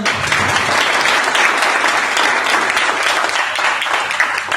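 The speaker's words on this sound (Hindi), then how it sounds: "एक बार जोरदार तालियां" A business-meeting audience at a Modicare network marketing session in Hisar breaks into loud, dense applause that holds steady and close for the whole stretch, with no talk over it.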